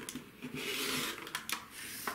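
Quilt fabric pieces are cut diagonally from charm squares, a close, steady rasping slice with a few sharper strokes, alone without talk.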